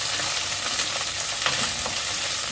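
Chopped okra and green chilies sauté in a hot pan with a constant close crackling sizzle, broken by faint stirring scrapes.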